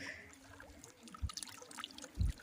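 An octopus is rinsed in water in the Sundarbans, giving quiet trickling and sloshing with two louder splashes of handling, close and without talk.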